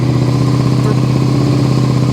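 A Suzuki SV650 motorcycle engine idling high while running on only one cylinder, a loud steady close drone with an even, slightly uneven pulsing beat throughout.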